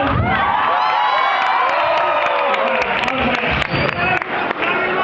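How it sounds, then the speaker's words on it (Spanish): A live comedy festival audience cheers, whoops and applauds in a dense, loud wash of crowd noise that carries on steadily, with scattered shouts rising above the clapping. "Un aplauso para Disney"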